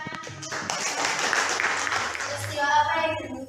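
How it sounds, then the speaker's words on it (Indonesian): Applause from a classroom of students, a dense burst of hand clapping that lasts several seconds at moderate loudness, mixed with some voices. "Kita berikan tepuk tangan."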